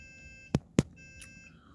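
A PC gives a few faint electronic beeps as it shuts off, tonal blips with a couple of sharp clicks in between, quiet and brief over low room noise.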